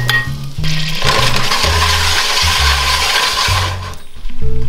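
Butter melting in a pot on a stovetop element set to medium-high heat, a steady broadband sizzle lasting several seconds, close and fairly loud, with low thumps and light clinks of utensils underneath.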